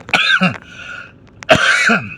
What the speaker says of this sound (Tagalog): medyo inuubo tayo ngayon